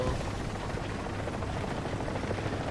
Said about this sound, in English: they got another chopper.